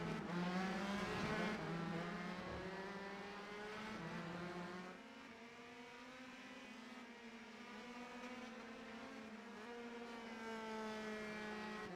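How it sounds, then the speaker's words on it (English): Race cars on the New England Grand Prix circuit, several exiting the pits, engines droning with steady rising and falling pitch sweeps at moderate distance, continuous and overlapping throughout. "A lot of cars exiting the pits."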